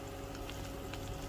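Finely chopped lemongrass is frying in oil in a pan, giving a steady, close, hissing sizzle that holds evenly for a brief moment.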